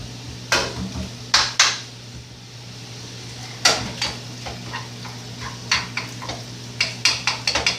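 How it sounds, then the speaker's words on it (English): Red meat frying in a pan gives a steady low sizzle with scattered sharp clicks and pops, some utensil stirring and clatter mixed in, close and moderate in level, with no talking. "That noise you hear is your red meat bubbling up."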